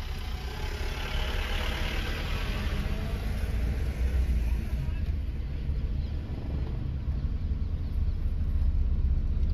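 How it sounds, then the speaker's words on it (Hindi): A car in first gear pulls away during a driving lesson, its engine a steady low rumble and hum held close and even throughout. "अभी आप इसको फर्स्ट गियर में करके आगे बढ़ाइए।"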